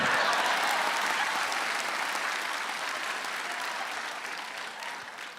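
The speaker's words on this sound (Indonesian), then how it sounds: "Tepuk tangan buat Irfan Kartawirya" Warm applause from a studio audience greets a stand-up comedian at a roast, a thick continuous clapping that starts full and slowly tapers toward the end.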